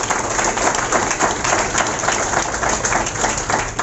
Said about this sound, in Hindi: जोरदार तालियां उनके लिए मिला।